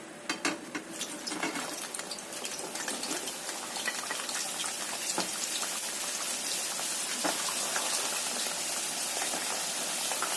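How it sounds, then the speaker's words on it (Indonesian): Potatoes deep frying in hot oil during home cooking, a steady dense crackle and fizz that holds at an even, fairly loud level throughout, with no talking over it. "Kita goreng sebentar lagi, ini sampai kuning kecoklatan kayak gitu atau kering."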